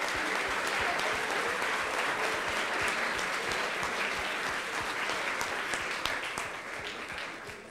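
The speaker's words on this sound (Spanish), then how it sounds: "Un fuerte aplauso." Strong applause from the audience at a programming contest closing ceremony, thick continuous clapping from many people that eases slightly near the end, with no voices over it.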